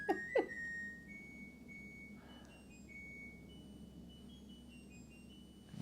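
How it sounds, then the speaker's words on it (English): A washing machine in the background signals the end of its wash cycle with a brief high electronic beep right at the start, followed by a faint quieter tone and a steady low hum beneath it. "in the background is the washing machine that's just finished washing"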